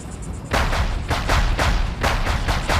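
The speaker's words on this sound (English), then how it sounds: "2 consecutive assaults, at least 21 shots fired." Rapid gunfire from a man shooting at police in a residential street in Cocoa, Florida: a loud volley of about a dozen sharp cracks in an uneven burst, each with a short echo.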